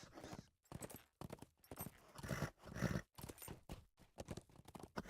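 A war steed's hooves clip-clop in rapid, uneven bursts in the video game LOTRO, with a brief neigh mixed in, fairly faint and alone.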